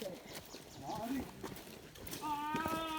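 Cows walking along a mountain trail, with hoof clops mixed into outdoor noise and a few animal calls near the end, while people talk throughout.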